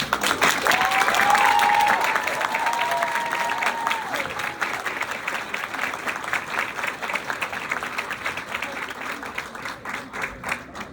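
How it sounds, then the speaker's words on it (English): A round of applause at a university social work graduate hooding ceremony, loud and sustained from a large audience, a voice briefly heard over it near the start before the clapping thins out toward the end. "Would you like to give them a round of applause?"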